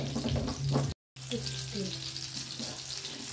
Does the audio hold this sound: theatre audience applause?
no